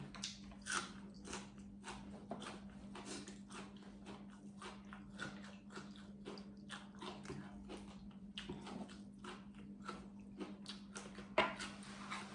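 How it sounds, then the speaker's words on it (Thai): Someone chews spicy cucumber salad served with cooked blue crab, roasted shrimp and fried sun-dried tilapia, giving close, rhythmic crunchy bites and wet mastication over a faint steady hum, with no talking. "เคี้ยวเอามัน"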